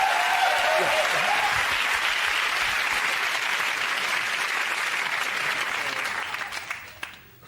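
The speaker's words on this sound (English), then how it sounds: "I'll give him a round of applause again" A comedy panel show's studio audience breaks into loud, dense applause, with a voice briefly heard at the start, before the clapping thins and fades out over the final second.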